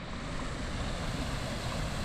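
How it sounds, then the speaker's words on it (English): A creek runs high and full after a snowstorm, giving a steady, broadband rushing wash of water that stays even and fairly close. "The water's flowing much higher than it was before the snow"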